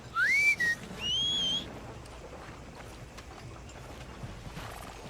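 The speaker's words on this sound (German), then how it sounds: "Einfach alle am Pfeifen." Characters in Red Dead Redemption 2 whistling, a rising whistled call followed by a second sustained note, loud and close, then faint game ambience with light clip-clop-like ticks.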